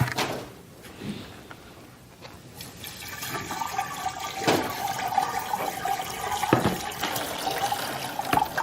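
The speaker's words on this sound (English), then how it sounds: "I'm going to go ahead and put the sugar water in here." Sugar water poured into an Italian ice maker, a steady liquid pour with trickling and splashing that builds and continues to the end, with a few sharper knocks along the way.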